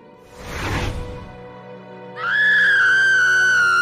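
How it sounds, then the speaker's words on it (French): A woman's loud, sustained high-pitched scream rises abruptly and holds steady for nearly two seconds, preceded by a brief breathy rushing burst and a moment of quiet. "C'est encore ma femme qui crie comme cela."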